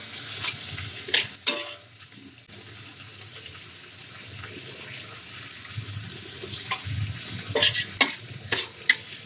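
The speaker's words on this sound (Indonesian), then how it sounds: "udangnya aku masukin juga sambil diaduk-aduk ya biar nggak gosong" Shrimp stirred as they fry in a pan, a low steady sizzle broken by sharp utensil clinks and scrapes against the pan, a few clustered near the start and more toward the end.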